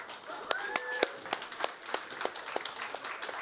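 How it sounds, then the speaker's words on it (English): A conference audience at a developer challenge claps for two participants, a modest scatter of individual claps ringing out unevenly with a brief tonal sweep in the background. "that was conference talk applause"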